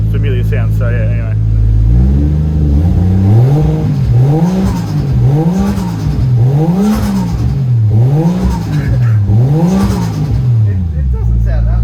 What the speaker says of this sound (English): I'm going to show him quickly how the turbo sounds